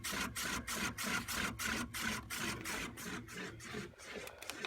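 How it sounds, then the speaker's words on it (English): A curbside Amana 6,000 BTU window air conditioner stutters through a fast, steady run of clicks and chatter over a continuous whirring hum, as its compressor and fan try to start. "3 clicks to get the compressor on? It's like the fan tries to start and then gives up."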